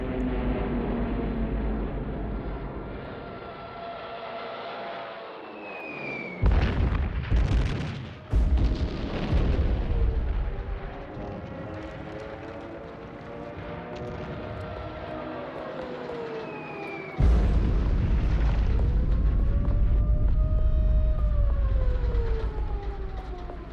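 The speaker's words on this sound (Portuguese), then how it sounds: "Em setembro, Hitler ordena o bombardeio de Varsóvia." Archival sound of the September 1939 bombing of Warsaw: heavy, booming explosions and low rumbles, with sudden loud bursts against a sustained wailing siren-like tone. The noisy recording runs continuously throughout.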